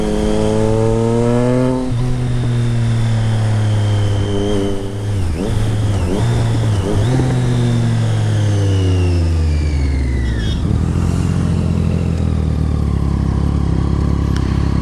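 A Triumph Street Triple motorcycle with a Racefit Growler straight pipe exhaust revs repeatedly, loud and close, its engine pitch sweeping up and falling back through several long throttle blips.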